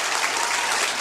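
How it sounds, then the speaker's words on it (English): Dense crowd applause at a junior bowling tournament, a continuous bright roar of many hands clapping, loud and close, with no voices standing out. "about a big round of applause for our number 3 finisher, Gianna"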